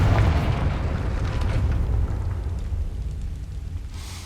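The Confringo explosive spell cast in the video game Hogwarts Legacy, a loud, deep rumbling blast that swells at the start and slowly decays into a long low roar over several seconds.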